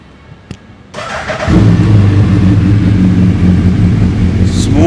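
A Yamaha R1 superbike with a Yoshimura exhaust fires up after a quiet pause and settles into a loud, deep, steady rev close by, a brief click before it catches.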